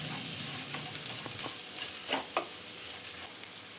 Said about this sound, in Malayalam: ഇതിലോട്ട് 3 സവാള സ്ലൈസ് ചെയ്ത് വെച്ചത് ചേർത്ത് കൊടുക്കാം.